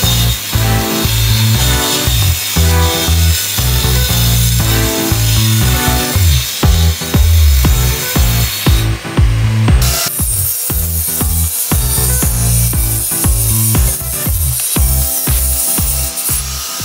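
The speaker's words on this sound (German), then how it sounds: "müssen wir halt diese USB-Platte erstmal so ein bisschen zurechtsägen" An OSB wood board is cut with a hand saw, giving a long run of loud, close, rhythmic rasping strokes with a brief pause partway through.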